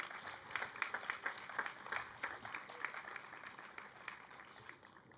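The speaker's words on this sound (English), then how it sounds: "Let's give ourselves a round of applause." A crowd at a graduation ceremony applauds, a fairly faint scatter of many hands clapping at once, steady and dense before tapering off toward the end.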